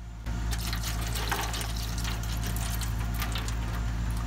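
Filtered liquid poured back into the reservoir of a Perkins Brailler machine during factory maintenance, a steady splashing, trickling stream that starts abruptly and runs on continuously, close and clear with no talking.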